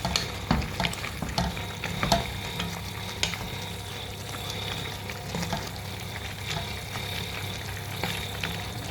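Food stirred and mixed in a hot pan with ampalaya (bitter melon) about to go in, a steady sizzle under scraping and clattering utensil strokes, fairly close and continuous with no talking.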